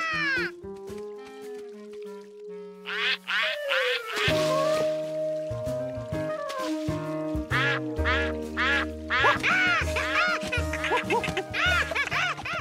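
Repeated cartoon duck quacks over a busy backdrop of music-like tones, fairly loud and continuous throughout.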